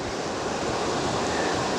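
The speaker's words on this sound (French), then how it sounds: "Je sais pas si on m'entend bien avec le bruit de la rivière." A river rushes steadily beside a trail where an Akita puppy wades in to cool off, a loud, continuous broadband wash of flowing water with no break and no voices.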